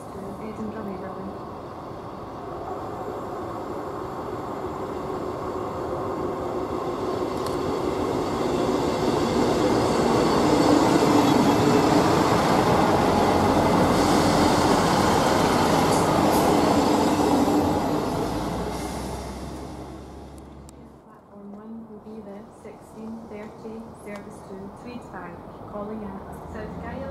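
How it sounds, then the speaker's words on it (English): A passenger train pulls into Dalmeny station platform, its rumble and wheel noise building loudly, holding, then fading as it slows and stops, leaving quieter idling and station sounds with a voice over the platform speakers. "The train arriving at platform 1 is the 1621 service to Edinburgh Waverley."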